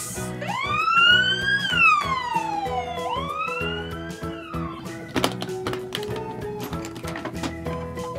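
An ambulance siren wails up and down in loud sweeping tones for several seconds, then cuts off, followed by clattering knocks and a steady tone.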